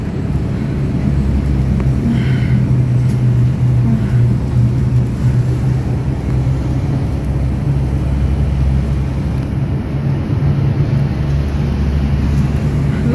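Inside a nearly empty bus while riding outside rush hour, a steady engine drone and road rumble fill the cabin continuously, with no talking.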